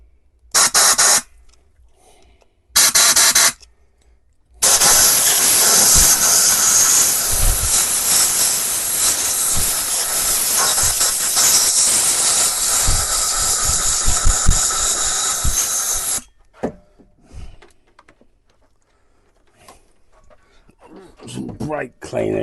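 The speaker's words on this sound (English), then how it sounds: "I'm just gonna get the airline again and just blow this out." A compressed airline blasts air through an engine part on a car under restoration, a loud sustained hiss lasting about eleven seconds after two short test bursts, with quieter workshop clatter following.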